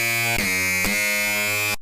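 Distorted FM bass from a Thor synthesizer in Reason 7, a dense buzzing sustained tone with strong harmonics that restarts twice in quick succession, loud and alone before cutting off abruptly.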